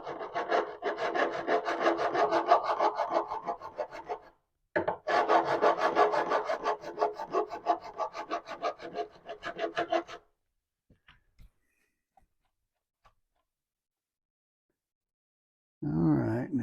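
Rhythmic, rasping file strokes polish and round a guitar fret on a Taylor guitar, two long bursts of fast back-and-forth rubbing, then near silence with faint taps, and a short burst of speech at the end.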